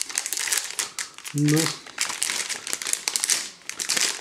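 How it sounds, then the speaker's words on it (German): Plastic packaging around a Logitech K780 keyboard crinkles loudly up close as it is unwrapped, a continuous crackling rustle that runs under someone speaking German. "Diese Tastatur ist in Plastik verpackt und ich mache sie mal auf."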